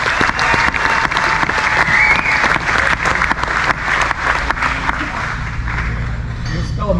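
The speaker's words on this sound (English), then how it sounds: "round of applause for Don Ivino" A crowd at a bass fishing hall of fame ceremony at Lake Mohave gives a loud, close round of applause that fades out near the end as a low hum lingers.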